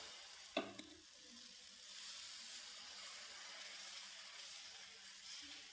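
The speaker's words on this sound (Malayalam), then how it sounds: "നെയ്യ് ഒഴിച്ചു കൊടുക്കാം നമ്മുടെ സോഫ്റ്റായ ദോശ ഒഴിച്ചു കൊടുക്കാം" Tomato dosa batter meets a hot griddle greased with ghee, giving a brief splashy burst near the start and then a soft, steady sizzle that stays quiet throughout.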